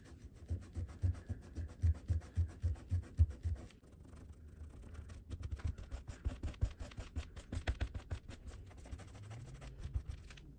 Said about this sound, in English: I scrubbed it off as best as I can